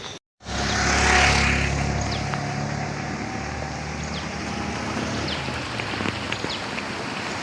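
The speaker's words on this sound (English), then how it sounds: "the weather is so gloomy and it's drizzling so hard" Rain drizzling outdoors on a gloomy day, a soft, continuous patter and hiss that fills the scene after a brief cut at the start, with faint distant traffic or aircraft rumble underneath and scattered sharper drop ticks.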